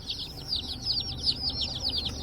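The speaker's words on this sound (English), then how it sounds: "Baby chickens! They're so cute," Baby chicks peep nonstop inside a Cackle Hatchery shipping box, a dense, overlapping chorus of high, rapid chirps with a low background rumble and no talking.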